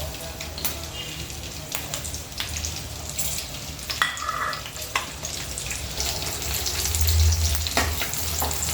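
Green chilies fry in a pan for a mint chutney, giving a steady close sizzle and crackle with occasional stirring scrapes, with no talking.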